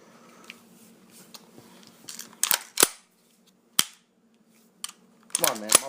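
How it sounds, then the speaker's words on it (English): A GBBR airsoft gas blowback rifle fires a few sharp, snappy shots, irregularly spaced, with faint mechanical clicks and handling noise between them. "this is a GBBR."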